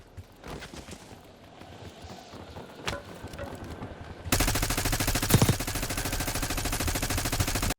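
Rapid automatic gunfire from a Warzone match in Area 99 starts with scattered shots, then becomes a dense, loud sustained burst of fire that continues to the end.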